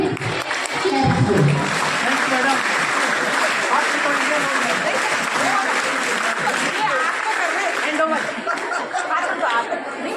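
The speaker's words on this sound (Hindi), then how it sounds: "और ताली हमें कौन सी बजानी है अभी?" Audience at a Youngs Club program held at a girls' school in Sujangarh claps in continuous, dense applause lasting about ten seconds, with scattered chatter and chuckles mixed in.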